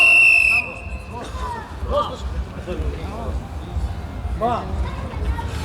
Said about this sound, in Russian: Свисток.